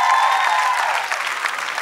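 Audience applause at a talent show gala, a dense burst of clapping that holds steady and then eases slightly, with no one speaking.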